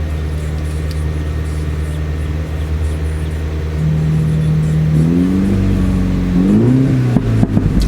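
A 2019 MINI Cooper S with John Cooper Works tuning idles steadily, then its engine is revved several times with the exhaust flaps opened in track mode, rising in pitch and loudness, ending in a few sharp pops.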